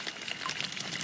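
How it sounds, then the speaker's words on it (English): Water flows from a roadside swamp into a small covered tank holding koi goldfish, a steady close trickle and splash that runs unbroken and alone. "flow of water that comes from the other side of the road through a swamp and dumps into my little water tank here"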